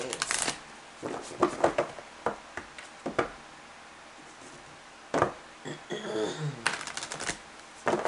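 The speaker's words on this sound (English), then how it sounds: "to get your cards shuffled and laid out" Tarot cards are shuffled and laid out in a run of crisp riffles, taps and slaps, irregular and close, with quieter gaps between the bursts.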